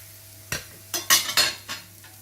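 Stuffed aloo paratha frying on a pan with a little oil, heard as several short sizzling and scraping bursts against a low steady hum, close and fairly quiet.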